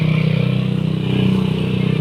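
A motorcycle engine idles or runs steadily close by, a loud low rhythmic putter with a rapid pulsing throb throughout.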